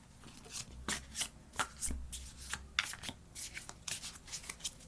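A deck of cards for a card reading is shuffled by hand, giving repeated close, crisp riffling bursts and slaps, with a few soft thumps as cards are pulled and set down; no talking.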